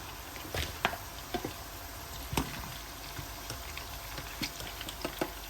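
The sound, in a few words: chicken popcorn pieces frying in a pan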